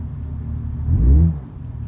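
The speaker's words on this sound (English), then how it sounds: "I left my engine running." A car engine idles in BeamNG.Drive after being left running, giving a steady low rumble that swells briefly as if revving, then settles back.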